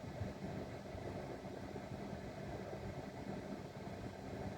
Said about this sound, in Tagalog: So andar lang ng andar yung compressor niyan